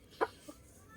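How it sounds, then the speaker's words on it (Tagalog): A pet chicken sick with a cold, wheezing from a rainy spell, lets out one short, faint cluck followed by a softer second sound in an otherwise quiet setting. "at halak sa ating alagang manok"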